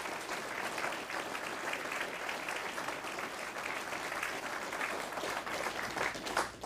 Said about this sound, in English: I think that deserves a round of applause, actually.